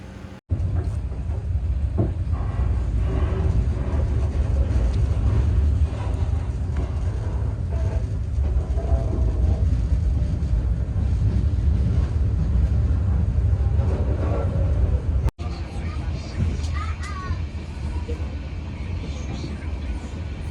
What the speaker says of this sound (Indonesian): kita menunggu kereta api Airlangga ini berangkat kembali